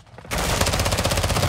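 Sudden loud burst of rapid sniper gunfire in Call of Duty: Modern Warfare II Warzone 2.0 DMZ that starts abruptly and continues as a dense, sustained rattle of shots, close and intense.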